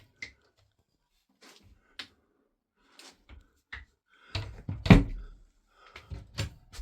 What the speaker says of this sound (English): Right, I'll show you opening the doors.